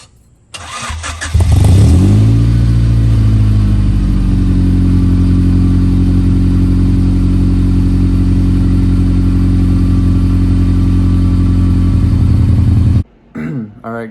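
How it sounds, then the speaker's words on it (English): A car engine with a newly replaced resonator cold-starts with a short crank, catches, and settles into a loud, steady idle held close for about ten seconds before cutting off. "I'm gonna go ahead and do a video of a cold start"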